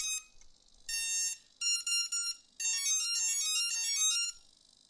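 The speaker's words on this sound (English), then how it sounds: "I'm going to connect a single battery in our case and listen for the beep." An electronic speed controller plays a series of high electronic beep tones and short melodic chirps in bursts, with brief pauses between them, right after a single battery is connected.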